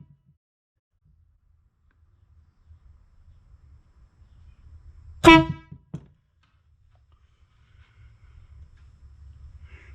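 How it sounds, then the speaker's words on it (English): A Motohorn V1 motorcycle horn gives one loud blast of about half a second inside a closed garage, with a brief trailing sound and faint background noise before and after. "So here's the horn. Let's see if we can hear what it sounds like."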